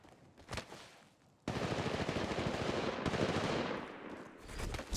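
Gunfire in the shooter Fade: a few early shots, then a long sustained burst of rapid automatic fire, loud and close, tailing off near the end.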